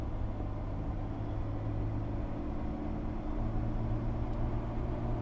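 A 2005 Jeep Wrangler LJ Unlimited with a manual gearbox cruises in a high gear, its steady low engine drone and road rumble filling the cabin at an even level, with no voices.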